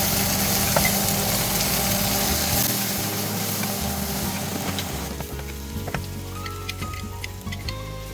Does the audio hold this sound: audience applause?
no